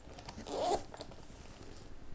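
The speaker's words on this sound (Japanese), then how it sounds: "ここも防水ファスナーになってるん" A waterproof zipper on a Zegner motorcycle seat bag is pulled open in one short, soft rasping stroke, heard close and quiet, followed by faint handling rustle.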